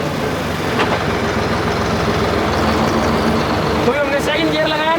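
Deutz Fahr 55 HP tractor engine running steadily as it drives on after a gear change, a loud continuous diesel drone with people talking over it.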